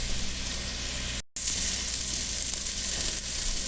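Ground beef patties for Salisbury steak sizzling in a hot cast iron pan, a steady loud hiss broken by one brief dropout, no voices.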